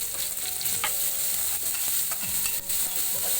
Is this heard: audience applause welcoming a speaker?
no